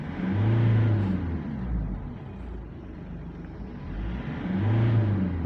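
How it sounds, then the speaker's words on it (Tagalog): Ford Everest engine revving while parked, two rising and falling surges with a steady idle hum between them, heard close from outside. "So hanggang dyan lang talaga RPM ng ganitong Everest."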